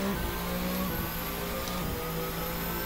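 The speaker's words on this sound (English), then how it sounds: "We'll drop the clutch and spike the revs, and we'll just lay a little bit of rubber down in the start box." A turbo-hybrid era race car in Assetto Corsa revs hard at the race start, its engine droning loud and continuous with brief dips and rises in pitch as the throttle is blipped.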